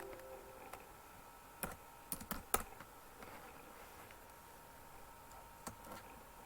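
Someone typing a search word on a computer keyboard, with faint scattered key clicks and a short burst of presses in a quiet room.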